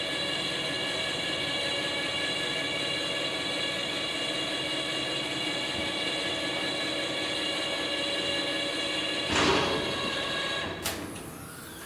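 A bin lift lowers with a steady mechanical hum and whine, then reaches the bottom with a short clunk and stops, its motor noise dropping off near the end.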